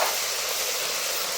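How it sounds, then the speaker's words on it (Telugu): Ingredients fry in a pan for masoor dal, a steady, even hiss of sizzling oil with no talk. "ఒక 2 నిమిషాల పాటు వేగేస్తాం."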